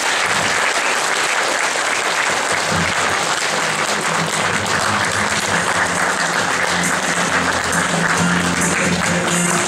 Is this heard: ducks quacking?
no